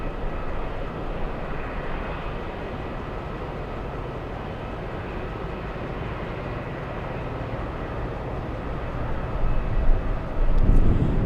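An Airbus XLR jet rolls off the runway after a seven-hour flight from Spain, its engines a steady, broad roar close by that swells louder near the end, with no talking.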